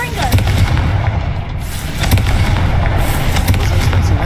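Confringo blasting spell in Hogwarts Legacy exploding with repeated loud booming bursts over busy game ambience, with a voice speaking in places.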